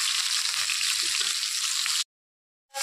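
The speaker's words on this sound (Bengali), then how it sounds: "এখন বাদবাকিগুলো ভেজে নিচ্ছি।" Remaining pieces of fish frying in oil, giving a continuous close hiss and crackle with a faint tap or two, then a short silence before the sizzle picks up again.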